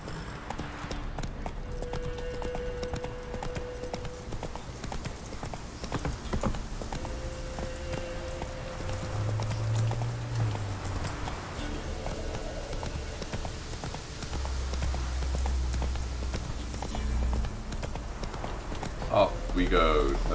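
Horse hooves clip-clop at a steady walking pace in the video game The Witcher 3, sitting under game music and low rumbles, with people talking at moments.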